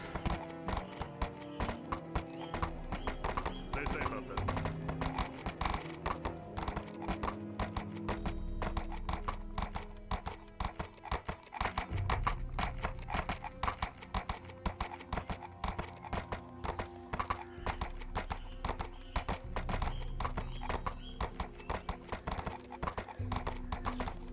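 Steady clip-clop of horse hooves trotting in VRChat, loud and close, over a continuous musical backdrop with an occasional whinny.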